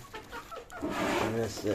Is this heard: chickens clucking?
yes